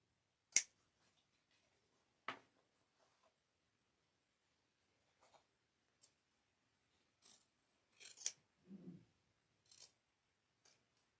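Scissors snip through the fabric of a zipper pouch in sparse, quiet, close clicks, single and paired cuts spaced a second or two apart against near silence.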